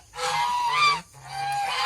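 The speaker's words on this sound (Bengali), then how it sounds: "এই যে হাঁসগুলি এখানে আসছে কিছুক্ষণ হইল" Geese at night, settled where they lay eggs, honk loudly nearby in two drawn-out calls separated by a short pause.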